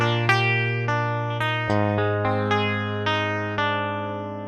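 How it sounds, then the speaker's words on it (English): Dry DI seven-string guitar from a heavy guitar instrument library, low open-string notes and picked chords struck roughly every half second, each one ringing and decaying, clean and unamplified with no voices. "you will hear that this is a DI guitar sound."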